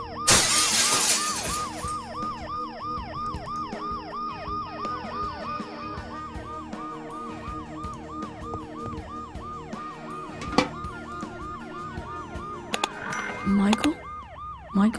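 In the game Dead Synchronicity, glass shatters loudly at the start while a wailing ambulance siren cycles steadily up and down throughout, with a few sharp knocks and a burst of clatter near the end.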